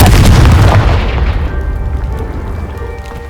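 Confringo blasting curse from Hogwarts Legacy goes off as one big, loud boom with a rumbling tail and debris that fades over a few seconds.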